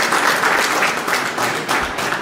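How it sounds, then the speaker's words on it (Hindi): An audience at a financial wellness workshop breaks into loud applause to welcome a speaker to the stage, a close, dense burst of clapping with slight pulsing surges throughout. "जोरदार ताली बजा करके हम उनका स्वागत अभिनंदन करेंगे।"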